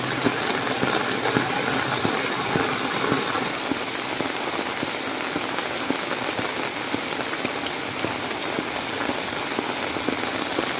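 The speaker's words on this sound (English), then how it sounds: "I like the rain." Steady rain pattering on surfaces during a wet day of the Philippine rainy season, a dense, continuous hiss with soft drop impacts and a faint engine hum underneath, no talking.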